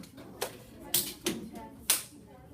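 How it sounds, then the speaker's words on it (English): Students in a classroom clap, producing a few sharp, uneven hand claps scattered over a couple of seconds, brief and fairly faint against quiet room noise. "Clap your hands once."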